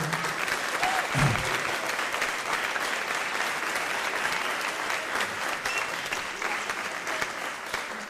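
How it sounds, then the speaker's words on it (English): A room full of people applauding at a school board of education meeting, a steady round of clapping that continues throughout, with a brief low thump near the start. "let's give them another round of applause."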